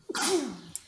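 A single sneeze, close and abrupt, with a sharp intake followed by a burst and a brief falling vocal tail.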